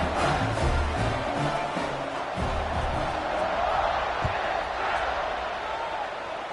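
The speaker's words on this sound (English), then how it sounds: "this crowd is buzzing after that last score" Football video game crowd in a dynasty mode, a steady loud buzzing roar of stadium noise throughout with occasional thumps, under a commentator's voice.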